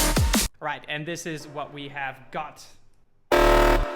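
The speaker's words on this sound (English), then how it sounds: "the alarm sound. Let's call it a honk or an alarm itself." A synthesized alarm-like drum and bass honk blares loudly in two short bursts, a buzzy harmonic tone at the start and a sustained one at the end, with someone talking in between.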